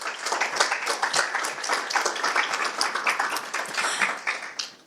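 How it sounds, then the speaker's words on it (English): A round of applause from an audience at a talk on Richmond's shoreline and industrial legacy, many hands clapping steadily and fairly close throughout, tapering slightly near the end. "Can I hear another round of applause for Sherry?"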